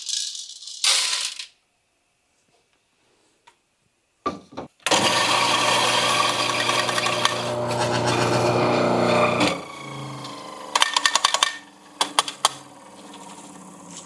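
A coffee grinder grinds beans coarse for a French press, a loud rough whirring rasp lasting about five seconds after short rattles, then scattered clicks and knocks as it stops.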